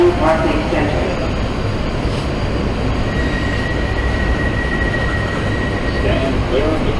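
A New York City subway local train runs between stations near Atlantic Avenue–Barclays Center, its loud steady rumble, wheel screech and clatter filling the car while a voice speaks over it.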